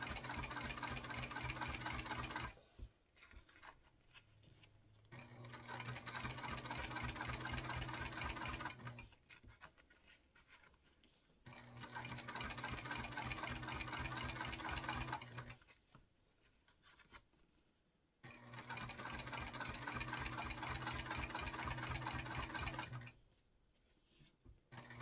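A sewing machine topstitches a sling bag in three long runs of steady mechanical whirring, each separated by short pauses, close and even in loudness.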